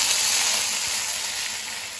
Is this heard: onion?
yes